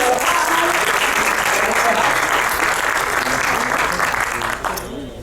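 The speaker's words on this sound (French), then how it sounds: "on peut applaudir bien fort" Loud, dense audience applause at a French conférence gesticulée sustains at full strength for several seconds before dropping off near the end, with faint voices mixed in.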